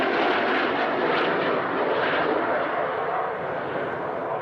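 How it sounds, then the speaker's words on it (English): A Gloster Meteor jet with twin Rolls-Royce Derwent centrifugal turbojets gives a steady, loud broadband roar that holds for several seconds at even strength. "a twin-engined aeroplane, two Rolls-Royce Derwent engines"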